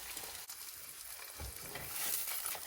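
Bologna fries in a hot pan over a cabin stove, a soft, steady sizzle and crackle that swells slightly toward the end, with no talking over it.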